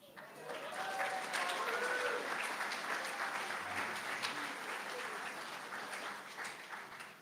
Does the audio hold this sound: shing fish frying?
no